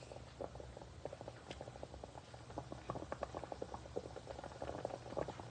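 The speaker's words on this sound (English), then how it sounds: "Can you hear it bubbling?" Turkey gumbo simmers in a pot, giving off a soft, steady run of small bubbling pops and blips that go on and on at close range, with no voices over them.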